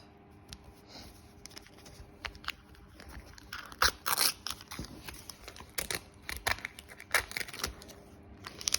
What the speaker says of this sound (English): I'm just gonna come in here and trim along that basting stitch line and trim that excess off